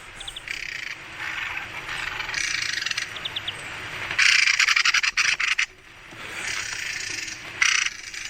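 A mistle thrush gives its aggressive call while defending a tree, harsh rattling churrs in repeated rapid bursts, loud and close, broken by brief pauses.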